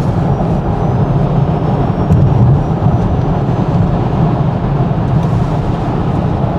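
A single-motor electric car accelerates hard, filling the cabin with a loud, steady low rumble of road and wind noise that holds without a break.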